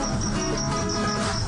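Farmed crickets kept in wooden boxes about 50 x 100 cm, lined with dry leaves and egg trays and raised as an alternative protein food, chirp in a dense, steady, continuous chorus with no voices.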